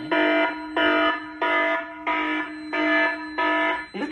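A fire suppression panel alarm sounds during an extinguishing gas release, sending six loud, evenly spaced electronic buzzer blasts of about half a second each, separated by short gaps.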